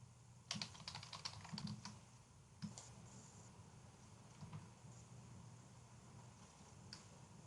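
Fingers typing a title on a computer keyboard, quiet irregular clicks in a short burst at first, then a few scattered keystrokes trailing off in a near-silent room.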